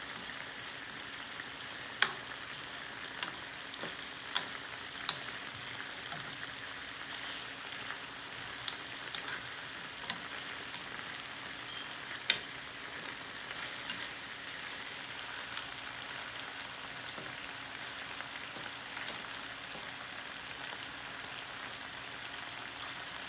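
Chicken pieces for tikka masala fry in a pan, giving a steady, even hiss with scattered small pops and crackles throughout, close and moderately loud with no talking.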